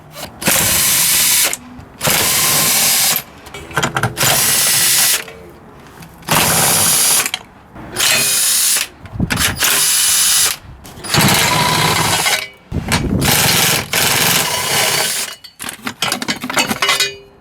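Ratchet wrench working 13mm bolts that hold the cross member to the gearbox on a BMW E36, close and loud, in repeated bursts of rapid clicking separated by short pauses.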